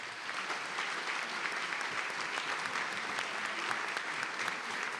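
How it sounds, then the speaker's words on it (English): Scholarship night audience applauding an honoree, a dense, even roar of many hands clapping at moderate distance, sustained at a steady level the whole time. "if we could get a round of applause for Danielle"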